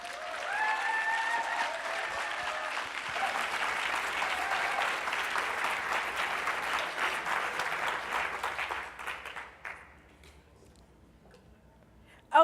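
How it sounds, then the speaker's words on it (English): Applause breaks out for a speaker at a devopsdays tech conference in Minneapolis: dense, sustained clapping from a sizeable audience that holds steady, then thins out and fades to near silence after about ten seconds. "So, a round of applause for Antoinette."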